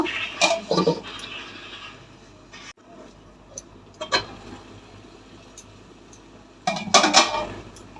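Metal clanks from a cooking pot and its lid as the pot is covered while making potato curry, with a few sharp knocks at the start and end and a quieter stretch between.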